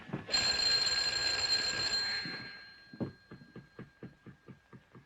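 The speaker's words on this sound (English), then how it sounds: "why don't you ring the bell?" Doorbell ringing in an early comedy film, a loud sustained electric bell ringing for about two seconds, then dying away into a run of repeated knocking or tapping sounds.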